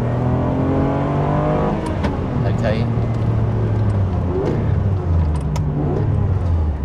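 Car engine fitted with an Answer aftermarket exhaust revs high toward 7,500 rpm, a loud, steady drone with rising harmonic sweeps, heard close inside the cabin while people talk over it.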